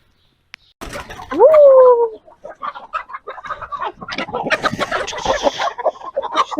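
A hen lets out a loud, rising squawk, followed by agitated clucking and rustling from nearby chickens.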